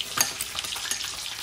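Bangus (milkfish) and tofu sisig being stirred in a hot pan, a steady close sizzle broken by quick scraping stir strokes, with no talking.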